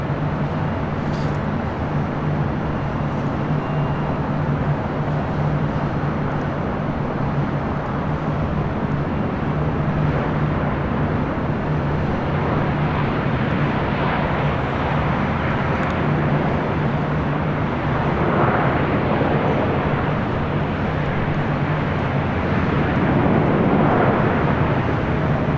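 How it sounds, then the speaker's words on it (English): A Southwest Airlines Boeing 737-700 arriving at LAX makes a continuous, fairly loud engine rumble and rush that swells slightly toward the end, blended with a low steady hum. "Next arrival, Southwest Airlines flight 1592, coming in from Sacramento,"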